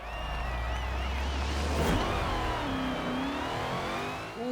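A car engine in a racing video game revving hard, the low drone cutting out at a gear change before the whine climbs again through rising and falling pitch sweeps, fairly quiet and continuous.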